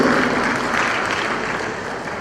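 A crowd claps steadily at the launch of the Edo State Technical Talent Development Policy, a dense, even wash of applause filling the room and fading slightly toward the end.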